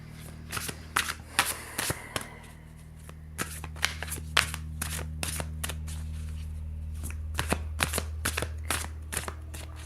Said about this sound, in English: I'm shuffling the cards for you